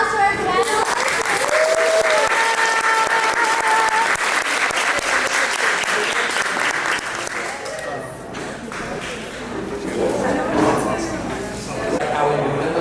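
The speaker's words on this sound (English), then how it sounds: "Give a round of applause for our panel" At a creative summit, the crowd gives a panel a loud round of applause, sustained clapping from many hands that fades somewhat midway and then swells again, with voices mixed in.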